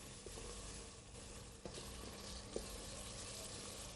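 Tomato sauce with ginger nibs stirred in a pan, a soft continuous simmering sizzle with a couple of faint knocks from the utensil, quiet and close.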